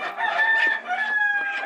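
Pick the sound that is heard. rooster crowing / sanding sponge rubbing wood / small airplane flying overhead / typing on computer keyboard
rooster crowing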